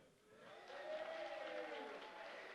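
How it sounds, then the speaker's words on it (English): A crowd applauds and cheers at a moderate distance at a school board awards night, a steady wash of clapping that swells slightly and holds. "the applause meter is going up"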